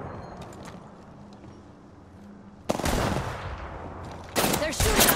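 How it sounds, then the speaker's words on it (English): Video game gunfire erupts in a shooter match, first as faint, distant rattles, then loud, dense automatic bursts of shots and impacts close by, with a second heavy volley near the end. "They're shooting at me."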